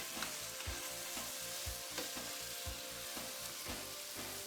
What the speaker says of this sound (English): Stir that up quick.